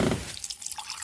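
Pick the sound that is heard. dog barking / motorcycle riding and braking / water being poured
water being poured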